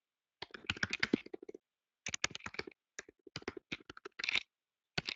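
Answer text is typed into a computer text box in quick bursts of keyboard clicks, close and clear, with short pauses between runs of keystrokes.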